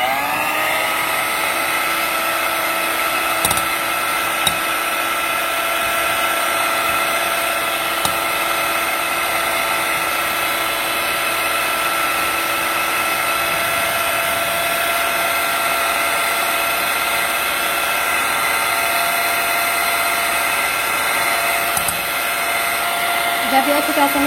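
An electric mixer whirs steadily, beating eggs and vanilla into sponge cake batter, a close and continuous motor hum with no talk.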